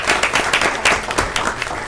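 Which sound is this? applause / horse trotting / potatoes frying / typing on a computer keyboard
applause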